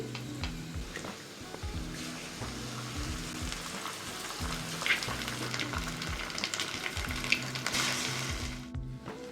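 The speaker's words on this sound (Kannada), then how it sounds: "ಈಗ ಮೊಟ್ಟೆ ಹಾಕ್ತಾ ಇದ್ದೀನಿ" Eggs frying in a pan with onion and shredded cabbage for a stir fry: a loud, continuous close sizzle with stirring scrapes and a rhythmic low thumping underneath throughout, and no voices.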